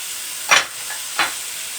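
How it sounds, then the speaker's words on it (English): Garlic stirred into a hot sizzling pan, a soft steady hiss broken by two quick scraping stirs, close and alone without talk. "Mix that up a little bit."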